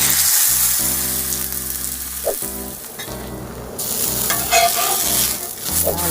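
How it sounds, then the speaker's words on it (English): A tortilla dipped in consommé hits a hot skillet, breaking into a loud, bubbling sizzle that continues with spitting crackles, a short pause and some scraping as it cooks. "we're going to just dip our tortilla or taco in, and then we're going to just toss it into the skillet"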